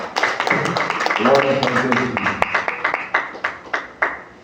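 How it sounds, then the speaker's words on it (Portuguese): A church congregation stands and applauds, a dense run of close clapping that grows into sharp, regular beats toward the end, while a voice calls out praise over it. "vamos aplaudir o Senhor Jesus Cristo por esse ensinamento"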